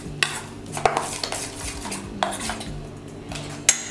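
A spoon stirs semolina idli batter in a bowl, with several sharp clinks of metal against the bowl over a steady, soft scraping swirl, close and clear with no talking.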